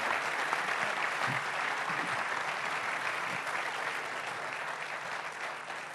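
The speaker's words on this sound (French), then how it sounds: "On peut vous applaudir." Steady applause from a seated conference audience after a round-table discussion, a soft, even wash of many clapping hands heard from a distance, tapering slightly toward the end.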